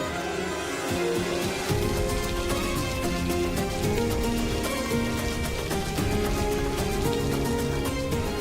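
Steady, dense heavy rain pours down in a constant hiss and patter, loud and close, with no break for the whole stretch.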